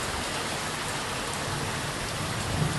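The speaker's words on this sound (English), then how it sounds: "So now we have that on top of this very intense thunder that's happening." Heavy rain pours steadily during a thunderstorm, a dense, even hiss of falling water that stays loud and constant throughout, with no distinct thunderclap standing out.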